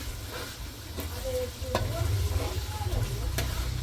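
Spice masala being stirred and fried in a pan, with a steady low sizzle under repeated scraping strokes of a spoon against the pan, close and continuous.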